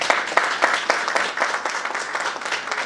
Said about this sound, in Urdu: ان کے لیے اسپیشل تالی ہے